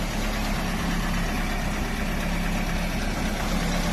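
A Yugo 55A's 1.1 litre, 55 horsepower engine with 77,000 original kilometres idles steadily, a close, even mechanical hum and vibration holding constant throughout with no voices.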